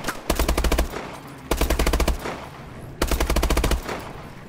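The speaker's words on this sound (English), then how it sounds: "I'm getting into a gunfight, kind of" Automatic gunfire in a video game gunfight: three loud, close bursts of rapid shots, each lasting about a second, separated by short pauses.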